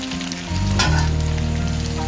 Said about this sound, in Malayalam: ഇതിലേക്ക് 1 ടീസ്പൂൺ ബട്ടർ, നല്ലപോലെ ഒരു 5-6 മിനിറ്റ് നല്ലപോലെ മുരിച്ചെടുക്കും